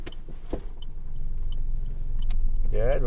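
A car pulls away during a driving lesson, its engine hum and road rumble building steadily over a few seconds, with light clicks and a brief rising whine near the end.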